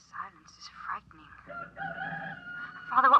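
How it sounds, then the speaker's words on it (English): A rooster crows once near the end of a short radio-drama scene, a loud clear call rising out of quiet, faint background sounds and a brief murmured voice beforehand. "It sounds like a rooster."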